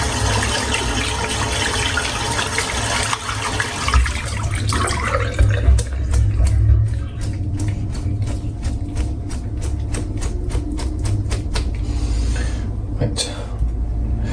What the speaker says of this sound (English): rinse the soap out